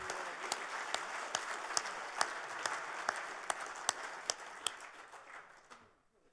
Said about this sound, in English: why don't we give these guys a round of applause